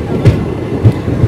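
The Chandigarh Madurai Express 12688 runs on the rails past Bellampalli station, giving three loud, evenly spaced wheel thumps over a steady low rumble, heard close up from on board.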